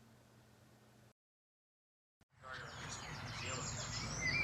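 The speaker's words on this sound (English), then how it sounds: "Birds are singing." Birds sing outdoors on a sunny day in South Wales, a continuous chorus of bright chirps and trills that swells in after a brief silence and carries on steadily to the end.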